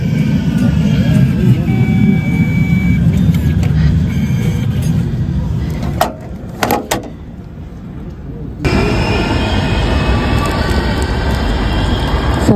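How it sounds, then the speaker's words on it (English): A tram pulls into a tram station, with a loud low rumble and rolling hum, a brief quieter gap and then the steady drone returning. "So I'm just at the tram station now."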